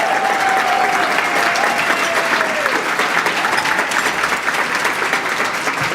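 Audience applause for award-winning volunteers at a Michigan Week community awards ceremony: steady, dense clapping from a large crowd that holds its level for the full six seconds, with a faint tone drifting underneath.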